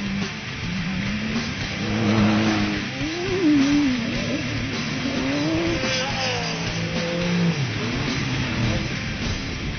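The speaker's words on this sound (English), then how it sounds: "good chance that you'll catch a lot of cars passing and racing close together" Off-road race cars passing in a close pack, engines revving and rising and falling in pitch as they go by at mid distance, with a steady roar and faint tire squeal underneath.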